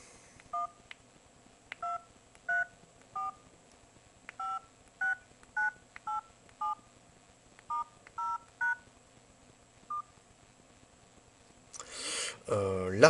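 Keypad tones sound on a Ciphone 3G as a number is dialed, about a dozen short separate beeps in an uneven rhythm, followed by a brief burst of louder noise at the end.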